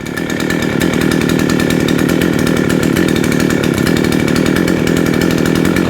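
A warmed-up Baumr-Ag GCS6200 chainsaw idles loudly and close by, its two-stroke engine chattering in a fast, even pulse that holds steady throughout with no talking.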